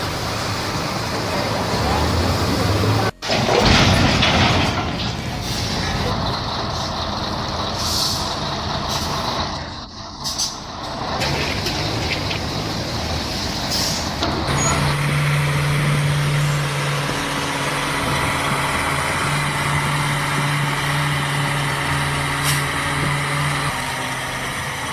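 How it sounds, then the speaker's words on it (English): A heavily loaded giant truck labours uphill through mud, its engine a loud, continuous drone with hissing air-brake bursts and a steady tonal whine building in the later half, all close and sustained. "That fully loaded truck climbing without wheel spin showed incredible traction management and operator control"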